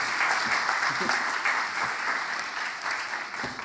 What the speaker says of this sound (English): Let's get another round of applause for Adele here